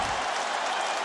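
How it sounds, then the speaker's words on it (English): A crowd applauds in a UFC video game after a hard-fought bout, a dense, steady roar of clapping and cheering that fills the moment without speech. "This crowd is on its feet."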